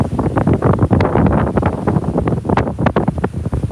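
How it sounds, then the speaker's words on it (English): Wind gusts outdoors on a morning nature walk, buffeting the microphone with loud, uneven rumbling throughout. "A bit of wind this morning."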